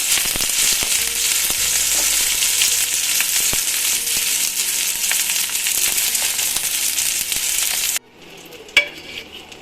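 Onion and red chilli with crushed garlic frying in a pan, producing a loud, steady close sizzle with occasional stirring scrapes for about eight seconds before cutting to a quieter clatter.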